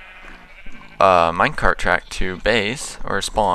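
Sheep bleats in Minecraft, a short bleat-like cry near the start followed by someone talking continuously over the farm sounds.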